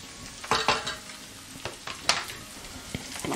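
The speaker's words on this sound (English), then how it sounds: "I'm gonna saute this out a little bit more." Garlic and cilantro sauté in coconut oil for Panamanian coconut rice with pigeon peas: a soft, low-level sizzle with several light spoon scrapes and stirring taps, close by and without speech.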